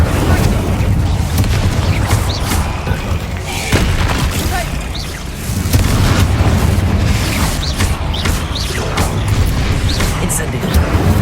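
Repeated booming fire-spell blasts from Incendio casts in Hogwarts Legacy, a loud sustained roar with several heavy bursts during combat against goblins, with game sounds layered throughout.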